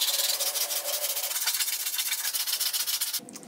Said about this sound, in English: I sanded both parts down.